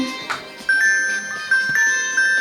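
An accessible electronic musical instrument made for children plays bright bell tones, with several clear, ringing electronic chimes struck in sequence and each one sustaining as it fades.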